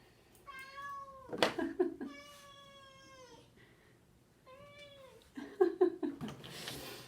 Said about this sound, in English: then she meows and she can hear her echo